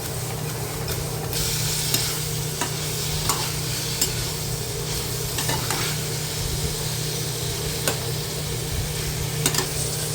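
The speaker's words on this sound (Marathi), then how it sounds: "हळद टाकल्याच्या नंतर पण हे सगळं मिक्स करून घ्यायचं आहे" Bitter gourd bhaji with turmeric fries and is stirred in a pan. A loud, constant close sizzle runs throughout, with scattered scraping stir strokes and light clicks on top and no talking.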